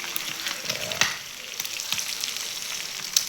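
Egg mixture for a folded omelette sizzles steadily in a hot pan, a continuous close frying hiss with a few brief crackles and soft clicks, no voices.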